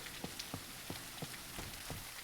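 Rain in the dark fantasy soulslike game Bleak Faith: Forsaken, a steady hiss of rainfall on surfaces with regular soft thudding footsteps or drops, moderately quiet and with no voices.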